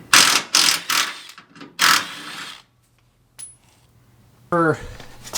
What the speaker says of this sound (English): I gotta remove these bolts and stuff on here.